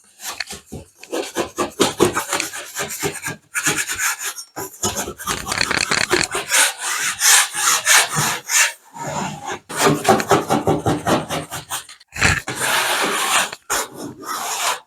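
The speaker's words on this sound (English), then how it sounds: "Instead of sanding and making a huge mess, I'm just going to scrape all these lines." A trowel or blade scrapes and rubs dried drywall joint compound on a water-damaged ceiling patch, close rasping strokes in irregular bursts with brief pauses between them.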